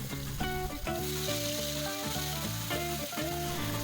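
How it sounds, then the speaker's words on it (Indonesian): Ground spice paste sautés in hot oil for an Indonesian Ramadan dish, giving a steady, close sizzle that runs under loud background music throughout. "Panaskan minyak secukupnya aja untuk menumis bumbu, dan kita masukkan bumbu yang udah kita haluskan"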